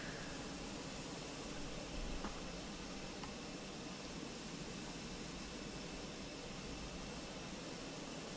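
Airliner jet departing in Microsoft Flight Simulator, an Airbus A320-family jet, as a steady broadband roar that holds at an even, moderate level throughout with no talk.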